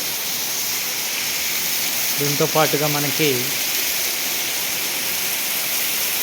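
Steady, even rain hisses over rain-harvesting pits in the herbal garden of a government degree college in Mylavaram, with someone speaking briefly over the constant downpour in the middle.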